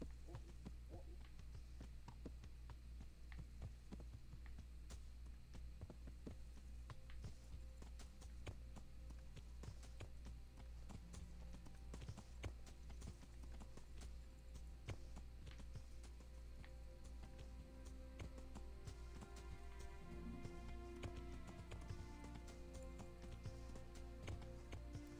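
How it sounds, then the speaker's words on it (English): Horse hooves clip-clop steadily along a dirt road in Kingdom Come: Deliverance, a faint repeating rhythm beneath a low ambient hum and occasional game sounds. "now there's another horse on the road"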